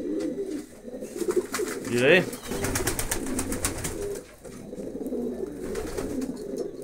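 Pigeons in a loft, where a hen is laying her first egg in a basin-nest by the doorway, coo in low, repeated murmurs throughout, while someone briefly speaks over them.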